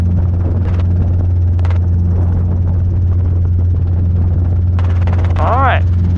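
Robinson R22 helicopter in flight, a steady close engine and rotor drone with a constant low hum running throughout, under radio chatter from air traffic communications.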